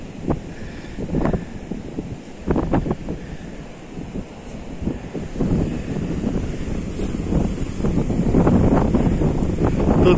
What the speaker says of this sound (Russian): Так, друзья, шторм у нас сегодня.